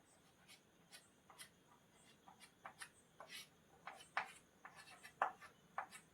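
Writing on a board during a class 10 coordinate geometry maths lesson, a string of quiet close scratches and taps from strokes at an uneven pace.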